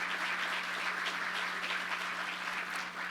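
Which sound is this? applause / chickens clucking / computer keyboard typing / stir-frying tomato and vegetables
applause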